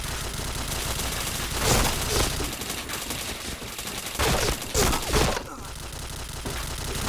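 Dense gunfire from the first-person shooter Point Blank fills the whole stretch: continuous loud automatic bursts and overlapping shots with heavier blasts in the middle, and no speech.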